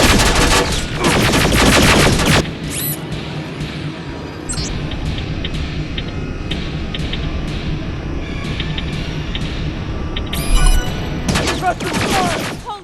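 Gunfire in Terminator Resistance: loud bursts of rapid automatic fire open and close the stretch, with sparser, quieter shots and a low rumble in between.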